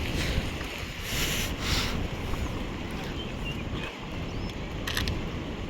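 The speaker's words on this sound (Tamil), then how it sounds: "ஃபால்ஸில் தண்ணி பயங்கரமாக கொட்டுதுங்க" Shivanasamudra's Barachukki waterfall in Karnataka roars loudly and steadily throughout, a dense rushing wash of water with wind buffeting the microphone.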